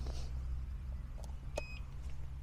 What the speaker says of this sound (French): On a entendu le bip.